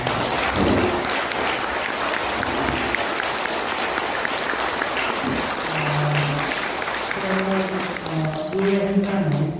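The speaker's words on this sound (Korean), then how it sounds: "우리 모두 다 조국 선생님을 비롯해 함께 큰 박수를 치며" Audience applause at a Korean literary lecture event organized by a writers' association in a youth culture space, steady and loud crowd clapping filling the room throughout, with some voices and tonal sounds emerging near the end.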